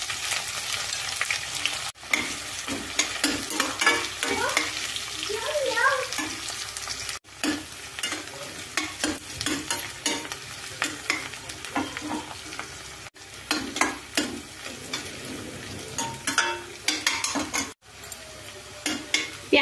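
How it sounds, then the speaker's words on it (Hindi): Cumin, garlic, onion and green chili sizzle and fry loudly in hot oil for an Indian potato and singri sabzi, with steady stirring scrapes running throughout and no talking. "ऑयल गरम हो गया है तो डालेंगे जीरा, लहसुन, प्याज और हरी मिर्च"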